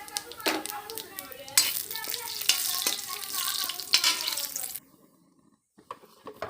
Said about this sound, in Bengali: আমি বাগারে দিয়ে দিচ্ছি জিরে, শুকনো লঙ্কা, তেজপাতা।